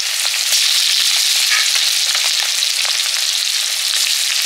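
Chopped onion fries in hot oil with a loud, dense, continuous sizzle. Scattered crackles and light pops run under it, close and steady, with no voices.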